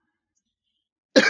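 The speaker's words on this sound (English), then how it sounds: "As I start with a cough." A single short cough or throat clearing bursts out suddenly at the very end, close and fairly loud after near silence.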